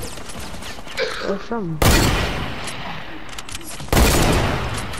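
Fortnite gunfire: two loud, sudden bursts of shots with crackling tails, each following close-miked voices that talk and call out over the game.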